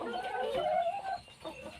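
Laying hens suffering from fowl pox cluck nearby in a coop, a steady, moderately loud run of clucking calls with no talk over it.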